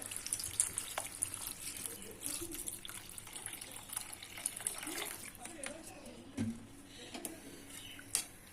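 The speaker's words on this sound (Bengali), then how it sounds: "দেব আরেকটু জল" Water and spiced liquid poured into a cooking pot for a Bengali dhokar dalna, a continuous close trickle and splash with a few clinks of utensils, some low voice in the background.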